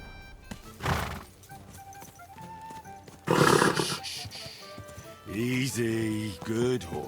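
A horse in the video game Kingdom Come: Deliverance II neighs in loud, wavering whinnies toward the end, preceded by snorts and rustling bursts, with no talking.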